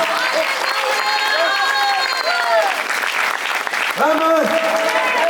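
Church congregation clapping hands overhead in praise, a continuous loud crowd applause throughout, with singing or chanting voices rising over it.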